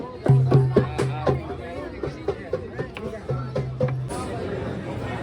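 Crowd chatter fills a queue at Mahakaleshwar temple: close, overlapping voices and murmuring babble, with one nearer voice standing out now and then.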